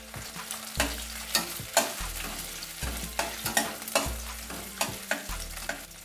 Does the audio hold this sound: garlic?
yes